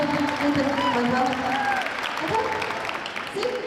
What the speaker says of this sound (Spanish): vámonos con un fuerte aplauso para nuestro jurado